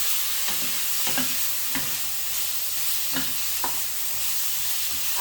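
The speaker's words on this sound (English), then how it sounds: "just gonna fry that in a bit" Prawns and vegetables stir-frying in a hot pan, a steady broadband sizzle running throughout with occasional clinks and scrapes of a utensil stirring, close and alone with no talk.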